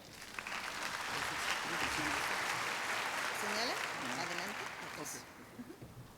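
Audience applause welcoming Dr. César Ochoa, an endocrinology speaker at a medical talk on obesity treatment, dense steady clapping filling the room for several seconds before tapering off, with voices audible beneath it.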